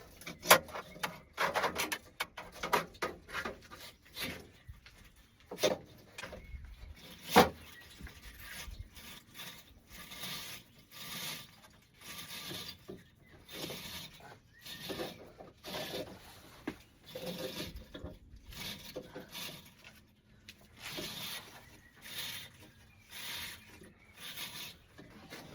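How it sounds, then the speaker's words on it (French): A brush scrubs the inside of an ELM Leblanc gas boiler during servicing, making irregular, close scratchy rubbing strokes with a few sharper knocks and no talking. "On va passer la brosse."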